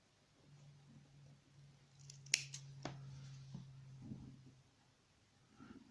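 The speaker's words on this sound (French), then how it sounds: "Je viens me couper mon coton" Scissors snipping cotton wick for a Geek Vape Blitzen RTA, a couple of faint, close, crisp cuts over a low steady hum, with quiet handling noise afterward.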